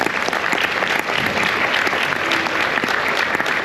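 Dense, sustained applause from a large conference audience at a business event in a Waikiki hotel ballroom, steady and loud throughout with no letup.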